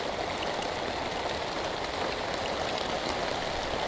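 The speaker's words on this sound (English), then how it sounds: "it's a very rainy day. As you can see, the water is everywhere. It's just pissing down." Heavy rain pours down steadily during a camping trip in flood conditions, a dense, even hiss of drops drumming on surfaces, close and unbroken.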